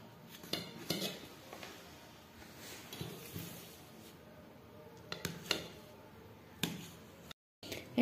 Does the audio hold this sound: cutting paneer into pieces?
yes